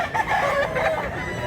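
A brief, close rooster sound with clucking from a gamecock about two years old, about a second and a half long.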